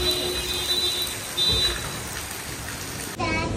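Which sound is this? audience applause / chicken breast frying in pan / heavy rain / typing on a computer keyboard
heavy rain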